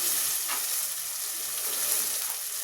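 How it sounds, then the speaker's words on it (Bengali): Chopped tomatoes hit hot oil with onion paste in a pan for nargisi kofta, giving a steady, close, bright sizzle that holds evenly throughout with no talking. "এখন আমি একটু টমেটো কুচি দিচ্ছি।"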